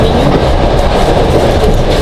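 A Trans-Siberian passenger train runs on rails from Moscow toward Vladivostok, heard from inside as a loud continuous rumble with rhythmic clickety-clack of wheels over rail joints, no voices.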